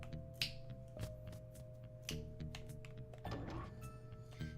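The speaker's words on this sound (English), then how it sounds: "my finger snaps" Finger snaps, several sharp clicks spaced about a second apart, heard faintly under a looping game background track with a steady tonal hum.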